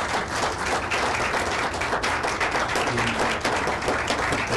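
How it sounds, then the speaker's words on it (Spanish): An audience claps steadily for several seconds, dense and even applause from a room full of people with no voices over it. "un aplauso fuerte, un aplaudissement très fort"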